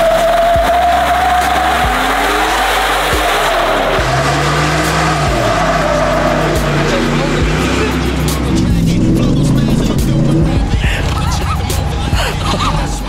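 A Rocky Ridge Ford F-150 truck with the factory peel out package revs hard against its rev limiter. The engine tone is loud and close, surging and bouncing with wavering pitch sweeps, and ends in rough, crackling bursts.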